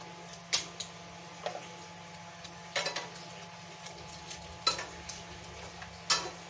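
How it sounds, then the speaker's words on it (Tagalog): A whisk or fork beating eggs clicks against a bowl in quick, irregular strokes, close by, over a steady hum of an electric fan in the background. "Babatihin ko na rin yung itlog"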